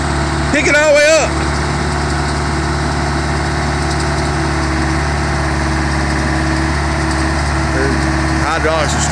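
A Caterpillar 416B backhoe loader's diesel engine runs at a steady idle, loud and close, with a short burst of a voice near the start and another near the end.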